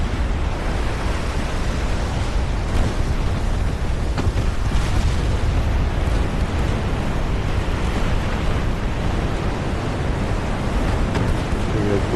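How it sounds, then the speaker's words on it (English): Flash fire explosion aboard a warship during a naval battle in Ultimate Admiral Dreadnoughts, a loud sustained rumbling roar with booming bursts over constant low noise, steady and dense for the whole stretch. "Oh, we got flash fire going on there."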